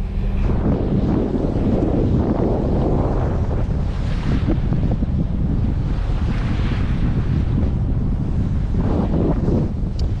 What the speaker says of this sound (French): Pour l'instant on a encore le vent malheureusement de face